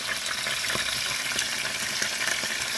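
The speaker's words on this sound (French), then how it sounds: "Alors là, on fait juste griller de chaque côté." Beef pieces are seared on each side in a hot pan for a French beef and carrot stew, giving a steady, dense, close sizzle with faint stirring noises and no talk.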